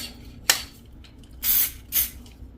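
Lubricant sprays onto a CO2 cylinder in three short hissing bursts, the first a quick puff and the next two slightly longer, close and fairly quiet.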